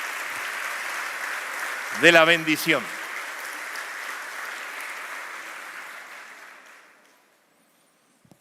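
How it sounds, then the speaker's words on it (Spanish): A church congregation applauding during a sermon: a steady wash of clapping that holds for several seconds, briefly under a speaking voice, then fades away to silence. "Yo le aplaudiría a Dios."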